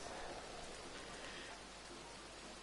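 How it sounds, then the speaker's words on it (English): Steady rain falls in the open world of the game Red Dead Online, an even, faint hiss of drops with no breaks, no voices and no other sounds. "We're gonna wait for the rain to pass."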